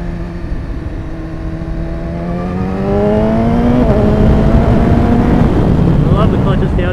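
A 2015 BMW S1000RR sport bike engine drones loud and close on a road, its pitch climbing and then stepping up in two quick clutchless downshifts, over heavy wind rush.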